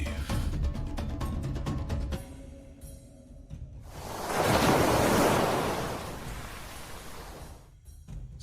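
A great ocean wave surges up and crashes loudly, a broad roaring swell of surf that builds in the middle and slowly subsides, with wind noise around it.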